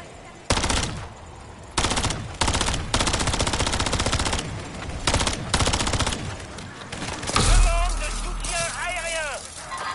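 Rapid automatic gunfire from a weapon in Call of Duty MW3 Zombies, loud repeated bursts separated by brief pauses, with a voice speaking near the end.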